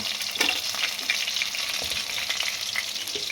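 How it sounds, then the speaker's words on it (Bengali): Chicken pakoras deep-frying in hot oil, a steady close crackling sizzle with scattered sharper pops and no voices. "পকোড়াগুলো একদম লাল লাল করে ভাজা হয়ে গেছে, একদম কমপ্লিট।"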